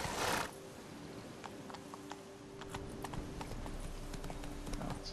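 Roach the horse gallops in The Witcher 3, hooves clip-clopping in a quick, steady rhythm after a brief burst of noise, fairly soft and with no talking.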